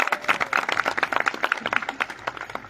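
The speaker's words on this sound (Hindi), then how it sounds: "तालियां बजाइए" Audience applause at a tribal gathering speech in Udaipur: dense, steady clapping from a crowd, sustained throughout, fairly close, with no talking over it.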